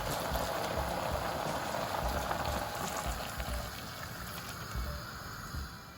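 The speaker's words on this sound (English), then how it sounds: "I'm going to pour in the stock there." Stock is poured into a pot of pumpkin soup, giving a steady liquid rush and bubbling wash with no talk, holding fairly even before easing slightly near the end.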